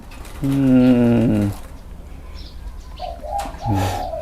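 A spotted dove gives one soft, low, wavering coo, followed by quieter rustling and faint chirps in the background.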